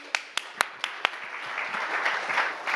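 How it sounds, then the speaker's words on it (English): An audience at the EHF Champions League draw gives Dragan a round of applause, a few distinct early claps swelling into steady, moderately loud clapping from a crowd. "Round of applause for Dragan."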